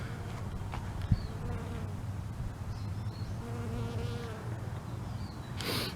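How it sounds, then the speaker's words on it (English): A bee buzzes steadily among bolting spinach plants in a home vegetable garden, a low droning hum close by that rises and falls gently, with no talking. "You can see a happy little bee there."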